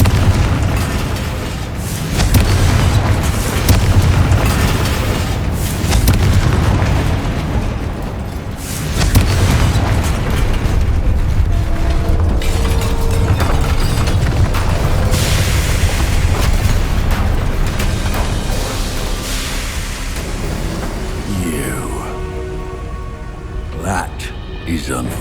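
Confringo fire spells explode in Hogwarts Legacy, a string of loud booming blasts over a dense, continuous game soundscape, with a voice speaking throughout.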